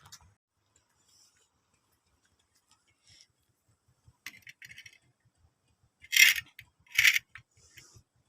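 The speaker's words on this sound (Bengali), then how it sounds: "চলো ফাঁকে বসিয়ে দিই তাওয়াটাকে গরম হতে" A metal griddle pan (tawa) set down on a sunny rooftop to heat, with a few light metallic clinks and two sharp scraping clanks near the end amid quiet surroundings.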